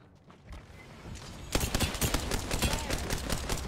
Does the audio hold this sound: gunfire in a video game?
yes